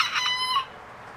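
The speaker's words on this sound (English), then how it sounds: "I know you're taking care of the chickens." A chicken gives a short, loud squawk near the microphone, then goes quiet.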